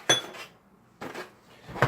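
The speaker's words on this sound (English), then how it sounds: "Let's blend this with the fork a little bit first." A fork clinks against a bowl while blending cocoa powder into chocolate pound cake batter, three short scraping taps spaced about a second apart, close and fairly quiet.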